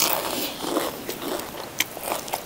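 Crisp crunching bites into deep-fried battered black mushroom, close to the mic, with a few sharp crackles scattered across a steady chewing texture and no talking.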